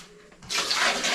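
Water is poured into a newly installed wash basin and runs down the drain as a loud, close, continuous gush that starts abruptly after a short quiet moment.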